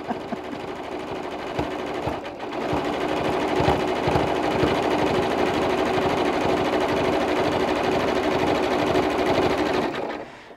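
A sewing machine stitches a decorative pattern on a fabric scrap gift card case, its needle clattering in a fast, steady rhythm after a brief start-up, running continuously at close range for about eight seconds before stopping.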